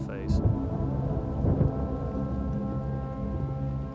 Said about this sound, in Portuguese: Eu acordei com pancadas de chuva caindo no meu rosto.